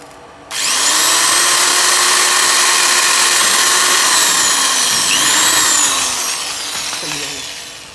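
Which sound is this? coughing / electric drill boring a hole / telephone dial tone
electric drill boring a hole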